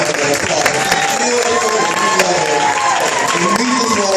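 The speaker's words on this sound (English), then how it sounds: "give her a big round of applause" Applause at a family reunion dinner: a crowd claps in a brisk, scattered patter, with voices and cheering mixed in throughout.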